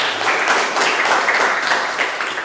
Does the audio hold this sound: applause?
yes